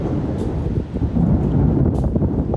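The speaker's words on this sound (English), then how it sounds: "you can hear that thunder. It is booming." Thunder booms outdoors during a storm, heard as a low rumbling roar that swells and lingers close by, mixed with gusty wind buffeting the microphone.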